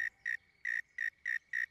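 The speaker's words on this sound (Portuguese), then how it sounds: "Um grilo." Six evenly spaced high, bright chirps, each lasting about a tenth of a second, ring out close by over a quiet background, with no talking. They sound like a cricket calling from right underfoot.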